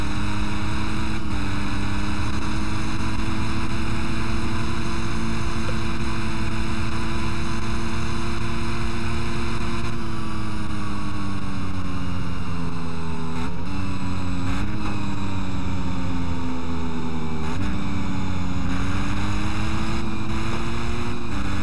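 A Ducati 999R motorcycle revs and accelerates in the Test Drive Unlimited racing game, its steady engine drone rising and dipping in pitch through gear changes, loud and continuous with no talking.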